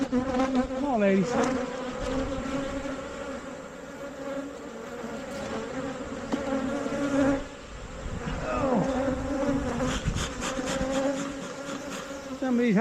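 Honeybees swarm and buzz loudly around an opened beehive, a dense continuous drone with wingbeats passing close by the microphone and no talk.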